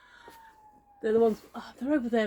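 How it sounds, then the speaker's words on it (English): A fire engine siren from a nearby fire station sounds faintly as one sustained, slowly falling tone for about a second, then fades as people begin talking close by. "Sorry about the siren"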